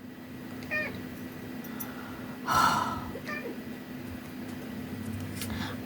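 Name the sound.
cat meowing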